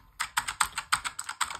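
Razer Huntsman mechanical gaming keyboard being typed on, a quick run of about ten crisp, close, clicky keystrokes in an uneven rhythm, heard alone.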